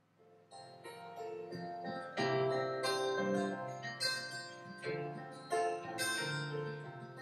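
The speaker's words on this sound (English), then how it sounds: "there's an introduction of a guitar and a soft bass" A chorus section of a self-produced song brings in guitar over a soft bass line, layered chords swelling and pulsing in a moderate groove, quiet and even, no voices.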